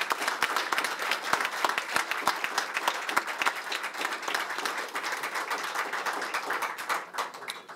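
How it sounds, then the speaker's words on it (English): Award-ceremony audience claps for a congressman receiving a leadership award: a full, crisp round of applause with individual sharp claps standing out, steady for most of the stretch before thinning toward the end. "please join me in a warm round of applause for Congressman Ed Pease."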